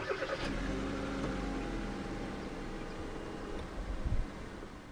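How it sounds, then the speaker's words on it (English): A 2017 Kia Cerato 1.6 SX starts by push button, its mid-pitched engine settling into a steady, close idle with a slight rise in revs near the end. "Put your foot on the brake and press the start button to the right of the steering wheel."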